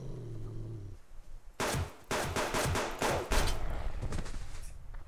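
Gunfire from the video game Subsistence: after a quiet moment, a loud burst of rapid shots erupts and continues in quick bursts for several seconds, with no talk over it.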